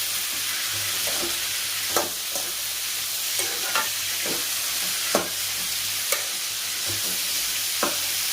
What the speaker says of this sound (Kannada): ನೋಡಿ ಈ ಥರ ಚೆನ್ನಾಗಿ ಎಣ್ಣೆಲೆ ಬಾಡಿಸ್ಕೊಳ್ಬೇಕು ಒಂದು ಎರಡು ನಿಮಿಷ ಚೆನ್ನಾಗಿ ಬಾಡಿಸ್ಕೊಳ್ಳಿ ಇದನ್ನು